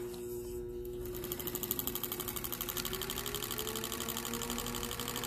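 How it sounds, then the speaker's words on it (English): A Lapmaster Wolters model 12 lapping and polishing machine starts up after about a second and keeps running with a steady, fast mechanical pulsing and a sustained hum, close and moderately loud. "Now we're gonna turn on the actual lapping instrument."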